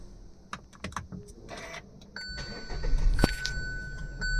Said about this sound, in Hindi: गाड़ी हम स्टार्ट कर ले रहे हैं।